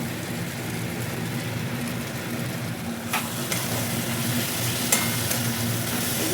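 Meat masala spices frying in oil while being stirred, a steady close sizzle with occasional scraping knocks of the spoon against the pan, no talk.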